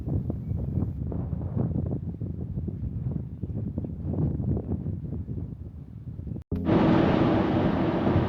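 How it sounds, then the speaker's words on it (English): Cold, breezy wind buffeting the microphone outdoors on an Iowa road trip, a low rumbling roar that gusts unevenly, then cuts off briefly and returns as a brighter, steadier hiss. "It is cold and breezy"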